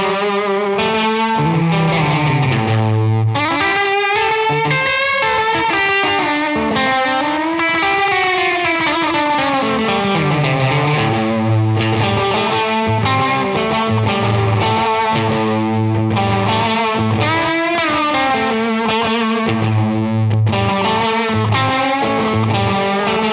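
Electric guitar through a Catalinbread Epoch tape-style delay with record volume cranked, heavily saturated notes smeared by warbling wow and flutter, sliding pitch bends and pulsing repeats, loud and continuous.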